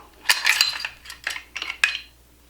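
A Hudson H9 pistol's trigger pulled during disassembly, giving a few sharp metallic clicks and clacks close by in a quiet room.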